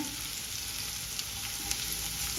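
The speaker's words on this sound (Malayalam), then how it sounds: "സവാളയും പച്ചമുളകും ഇട്ട് കൊടുക്കാം" Onion and green chillies sauté in hot oil in a pan, an even continuous sizzle with a few faint stirring touches, close and steady, no speech.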